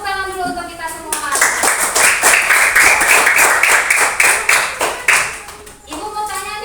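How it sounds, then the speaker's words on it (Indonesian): A school class of children claps hands together in a steady, rapid burst lasting several seconds, loud and close. Speech from the teacher or children can be heard before and after the clapping. "Tepuk tangan dulu untuk kita semua."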